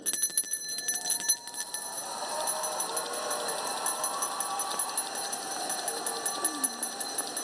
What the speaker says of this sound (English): under your chairs, you will find a memento which represents a school bell